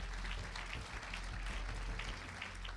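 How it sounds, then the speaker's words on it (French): Dense, steady applause from an awards ceremony audience in Paris, a continuous patter of clapping heard at a moderate distance over a low rumble. "On les applaudit tous."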